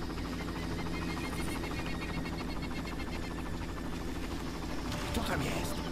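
Helicopters flying in the video game Far Cry, a constant loud rotor chop and engine drone filling the scene, with brief speech and a burst of noise near the end.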